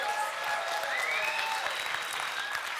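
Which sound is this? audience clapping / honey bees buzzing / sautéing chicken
audience clapping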